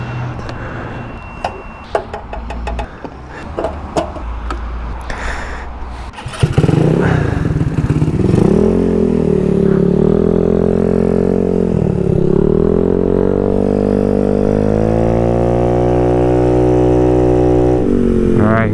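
A GY6-engined Honda Ruckus scooter starts with a few clicks and sputters, then pulls away loudly, its engine note climbing and falling through repeated revs and accelerations, heard close up and without speech.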